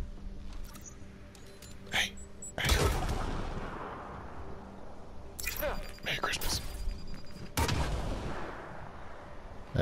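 Gunfire in Mass Effect Andromeda breaks out in sharp, separate bursts, a couple of heavy blasts standing out over steady game background noise, with a few voices talking between the shots.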